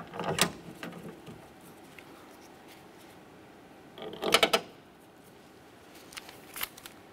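Mounting bolts for a front power window motor are driven into the door of a 2005-2010 Chevy Cobalt: three short, close bursts of metallic ratcheting clicks separated by long quiet stretches, with no talking.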